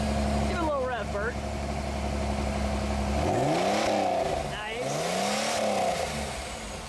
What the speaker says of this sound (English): Give it a little rev, Bert.